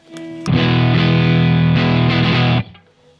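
Electric guitar chord through an amp with its volume turned down to halfway, a single loud distorted strum ringing steadily for about two seconds before being cut off, alone with no talk.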